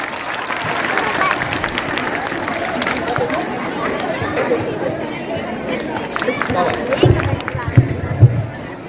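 Steady crowd applause at a school annual function, with a murmur of voices running throughout, growing a little louder and more uneven toward the end.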